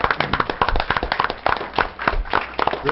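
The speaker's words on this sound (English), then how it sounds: "you deserve a round of applause" A county commission meeting crowd gives a short round of applause, sharp individual claps crackling close and dense, unevenly spaced, without talk over them.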